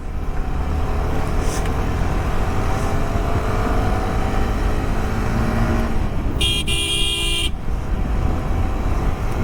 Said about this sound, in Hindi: गाड़ी भगाने में मज़ा आ रहा है कसम से